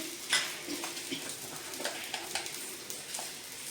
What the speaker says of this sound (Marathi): मिरची भाजून झालेली आहे आपली दोन ते तीन मिनटामध्ये त्याच्यामध्ये टाकूया आपण लसूण